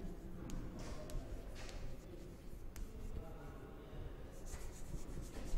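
A pen writes numbers on paper up close, making continuous soft scratching strokes with brief pauses between figures.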